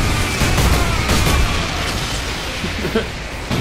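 A grenade blast in the video game Warhammer 40k: Space Marine 2, a loud, dense burst of booming explosion and crackling gunfire that rolls on for a few seconds with no talk.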